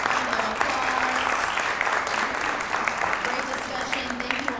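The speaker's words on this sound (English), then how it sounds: "Let's give our panelists a round of applause." An audience gives a steady, full round of applause for panelists at a maternal health discussion, with some voices mixed into the continuous clapping.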